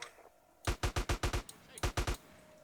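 Gunfire in GTA San Andreas: a quick burst of six loud, close shots in steady rhythm, a short pause, then three more, with faint background sounds before the shooting starts.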